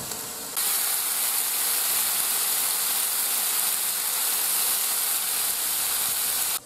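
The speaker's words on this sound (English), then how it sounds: "Add some water. Get some steam action going." Water hits a hot Kenyon City Grill griddle and erupts into a loud, steady hiss of steam that continues unbroken for several seconds before cutting off.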